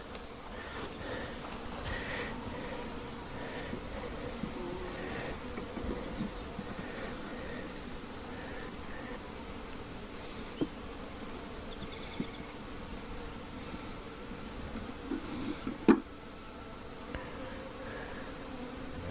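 Honey bees buzz and fan in an opened hive, a steady low hum that carries throughout, with a few faint knocks and one sharp clatter near the end. No one speaks.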